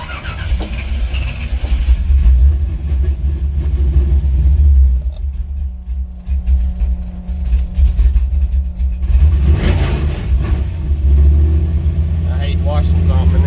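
A Chevrolet C10 truck's engine rumbles steadily at close range as it pulls away, with a deep low drone that swells and eases, while someone talks over it in places.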